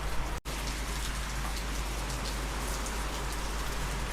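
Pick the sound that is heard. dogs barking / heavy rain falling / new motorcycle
heavy rain falling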